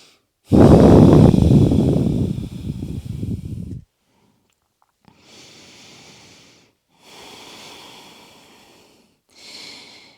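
Deep breaths during a yoga pose, opening with a long forceful exhale close up, followed by three softer, evenly spaced breaths with quiet pauses between them.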